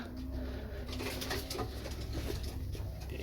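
Pigeons coo softly in a loft with nesting cells, a steady low murmur of calls over a constant background hum, with no talk.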